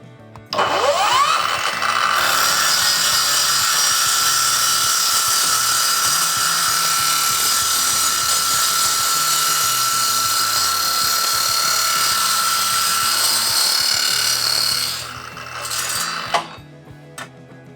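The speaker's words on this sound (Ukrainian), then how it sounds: "Зараз ми Оберти обрали дві 2200 та попробуємо також перепиляти." A cordless Procraft PGS miter saw runs at 2200 rpm while cutting, a loud continuous high-pitched whine that spins up, holds steady for about thirteen seconds, then winds down with a final clunk.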